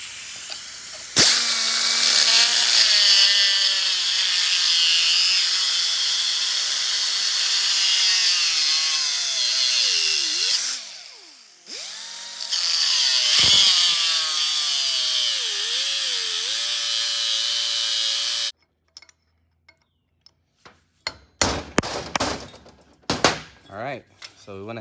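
A power cutting tool grinds a groove into a Nissan Titan axle bearing with a loud sustained screeching whine that wavers and dips in pitch, pauses briefly, resumes, then stops before several sharp metallic clanks and scrapes.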